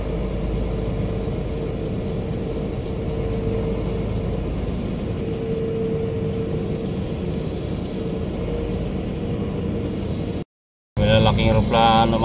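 Aircraft engine running at an airport, a loud, continuous low rumble and whine that holds steady, then cuts briefly near the end before resuming.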